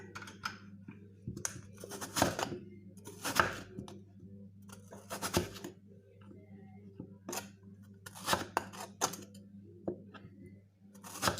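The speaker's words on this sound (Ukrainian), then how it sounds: "Картоплю ріжу прям великими такими кусочками" Potatoes being cut into large pieces with a knife on a board in a home kitchen, a series of irregular sharp chops with quiet pauses between, close and fairly soft.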